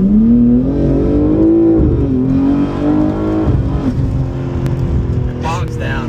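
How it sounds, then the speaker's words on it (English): A BMW G80 launches and accelerates hard, the engine note climbing loudly through the revs, dipping briefly, then pulling again close to the listener, with people talking over it. "So that was the launch for the G80"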